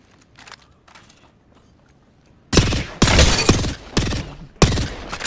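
Gunshots in a shooting video game: faint distant shots at first, then several loud, sharp bursts of gunfire in quick succession with brief gaps between them.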